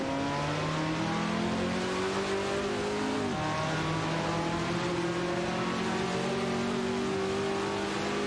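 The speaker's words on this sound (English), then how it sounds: "Hago 3 represents Team Nafgum Kings in a Ferrari 330 power, while Bergic 21 maneuvers a Ford GT40 MKI Bossi." Racing engines of a Ferrari 330 and a Ford GT40 MKI in competition, a continuous droning roar with sustained tones that shift in pitch as the cars run, one note dropping midway, steady and moderately loud with no voices.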